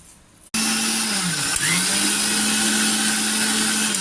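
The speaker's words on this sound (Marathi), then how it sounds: "तो आम्ही मिक्सरला फिरून मध्ये थोडं पाणी टाकून घेतोय" A mixer grinder blends dragon fruit with water. It starts abruptly, then runs as a loud, steady whirring drone with its pitch dipping briefly once before settling again. The sound is close and continuous.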